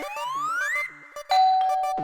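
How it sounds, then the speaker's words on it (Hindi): A doorbell rings indoors: a close, loud electronic ding-dong chime, two bright tones that rise and hold, then a second chime begins after a short gap, with no talk over it. "घंटी बज रही है"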